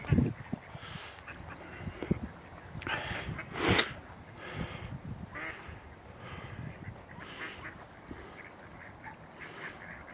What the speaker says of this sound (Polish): ptaki, kaczki, przyroda w pełni.